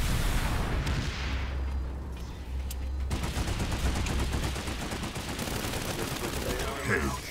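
Dense, continuous gunfire and weapon bursts fill a Planetside 2 battle, a steady barrage with several shooters firing at once at close range.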